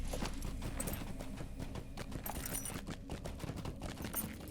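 A goat mount's hooves clop in a steady rapid rhythm while riding through the video game LOTRO, close and continuous with no talk.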